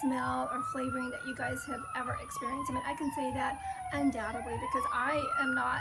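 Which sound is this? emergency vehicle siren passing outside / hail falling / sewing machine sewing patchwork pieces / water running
emergency vehicle siren passing outside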